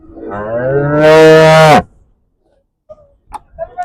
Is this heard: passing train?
no